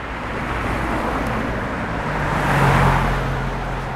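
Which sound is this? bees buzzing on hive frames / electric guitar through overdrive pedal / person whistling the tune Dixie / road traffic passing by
road traffic passing by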